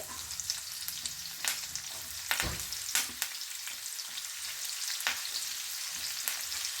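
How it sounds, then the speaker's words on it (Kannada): Cumin, mustard seeds, curry leaves and onion frying in hot oil for masala idli made from leftover idli, a soft steady sizzle broken by sharp pops and spoon taps against the pan, no voices. "ಇದನ್ನು ಚೆನ್ನಾಗಿ ಫ್ರೈ ಮಾಡ್ಕೋಬೇಕು."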